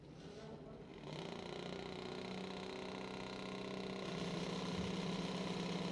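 A Kawasaki drag racing motorcycle engine idling at a drag racing event, a steady droning rumble that thickens about a second in and holds constant, moderately loud, with faint background noise.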